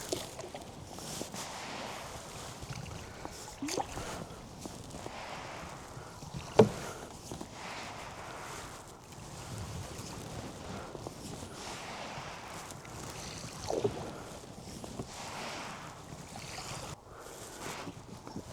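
A handmade 14-foot wood-canvas canoe paddled on water, quiet rhythmic paddle strokes and gentle splashes with soft wind and water ambience, one sharper knock partway through.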